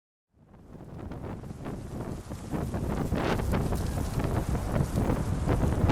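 Strong wind blowing outdoors by a wall where sheep graze, a steady roaring rush that starts abruptly and builds, buffeting the microphone, with no talking.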